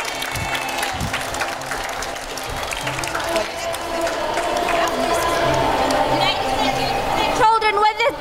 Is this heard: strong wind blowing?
no